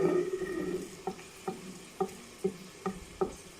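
Garlic and ginger stirred in hot oil or ghee for mash daal, a soft sizzle under a series of regular spoon scrapes and taps, fairly faint and close.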